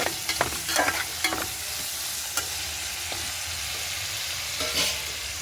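Green chillies and onions frying in a pan while being stirred: steady soft sizzle with scattered spoon scrapes and clicks against the pan, close and moderately loud, no talking.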